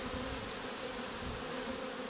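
Honey bees at an Alpine-style beehive fill the air with a dense, continuous buzzing drone, steady and enveloping at close range, with no voices.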